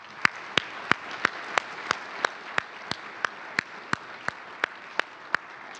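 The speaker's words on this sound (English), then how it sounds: "let's give them a round of applause" A sparse, slow round of applause at an agency honor awards ceremony: about sixteen distinct, evenly spaced claps, sharp and moderately near, over a quiet background.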